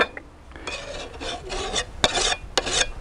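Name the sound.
sharpening a garden tool with a file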